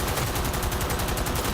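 Rapid automatic gunfire from a large weapon in the video game Cyberpunk 2077, a steady stream of closely spaced shots rattling through the whole stretch at moderate level, with no talk over it.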